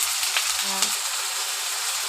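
Turmeric and chili hitting hot oil with ginger and garlic, a steady close sizzle with a brief clink and scrape of a utensil near the start, no talk.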